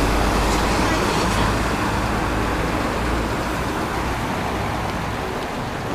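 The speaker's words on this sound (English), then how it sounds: "A green bus driving off in the distance" A green Kobe City tour bus pulls away in the distance on a wide street in Motomachi, Kobe, its sound blended into a steady, dense roar of road traffic.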